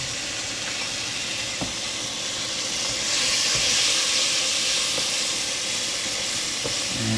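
Red wine cooking off in a hot pan, a loud, steady hissing sizzle that swells midway, with a few faint clicks and no voices.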